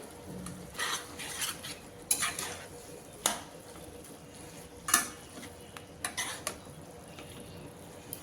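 Cooked potatoes being mashed with a spatula in a pan of mixed leafy greens, repeated scraping and clinking strokes against the metal over a low sizzle, irregular and close.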